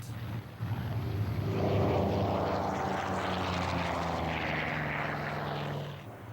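A Grumman Bearcat propeller plane's engine drones overhead at an airshow, swelling to a loud, steady growl and then easing slightly as it passes.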